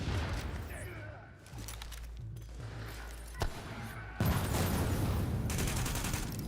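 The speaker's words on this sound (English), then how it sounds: "Grenade!" Grenade blast and gunfire in the shooter The Division, with dense bursts of shots and a sharp boom partway through, continuous loud combat noise that grows heavier toward the end, with voices talking over it.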